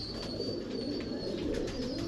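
Pigeons coo in a rooftop breeding loft, a steady low murmur of overlapping calls that runs throughout, fairly close, with no talk.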